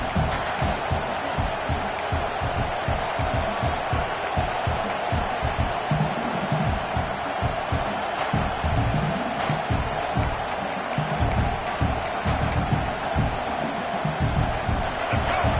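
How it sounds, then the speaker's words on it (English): A large football stadium crowd roars steadily throughout, a dense, continuous wall of cheering and shouting with scattered claps and bangs poking through. "this crowd is fired up. Listen to this noise here."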